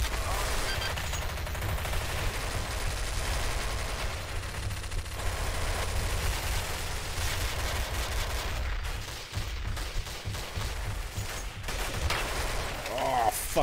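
Gunfire in Counter-Strike: Source on a 200-tick gun game server, with dense, rapid bursts of shots and automatic fire carrying on almost without a break.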